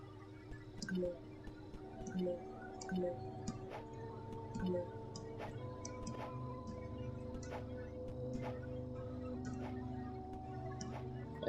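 Water dripping in the video game Dream Game, faint scattered plinks and ticks at irregular intervals over a low hum and tonal ambient background, with no speech.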